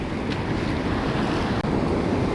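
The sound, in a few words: ocean waves crashing on the Oregon coast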